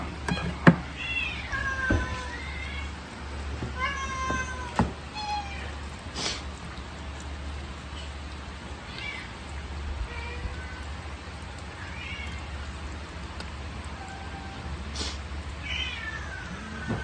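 A young orphaned kitten meows again and again, a string of clear, fairly close cries spread across the stretch with short pauses between them, over a steady low hum.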